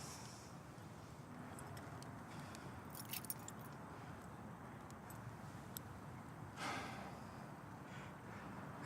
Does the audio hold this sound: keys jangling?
yes